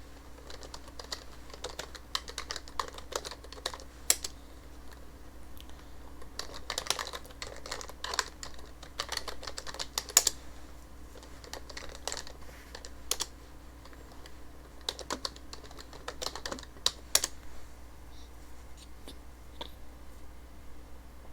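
Keys clatter in irregular bursts of typing on a computer keyboard, fairly close and moderately loud, over a steady low hum with no talking.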